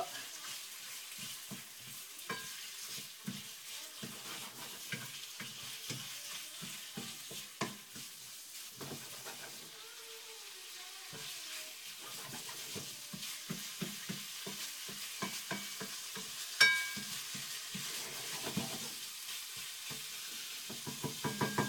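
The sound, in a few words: chicken sweating gently in olive oil in a pan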